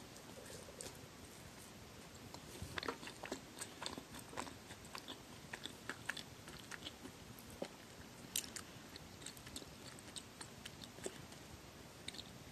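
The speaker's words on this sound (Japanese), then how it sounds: "はい、ツナパンいただきます。" Tuna bread being bitten and chewed close to the mouth, soft repeated crunchy chewing clicks in an irregular rhythm, quiet and alone with no talking.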